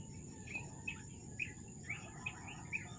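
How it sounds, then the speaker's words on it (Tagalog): Outdoor birds at a raw motocamping site call in short, bright chirps spaced about every half second, moderately distant, over a steady insect hum and low background rumble. "Sarap talagang pakinggan ng mga ibon."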